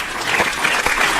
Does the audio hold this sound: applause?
yes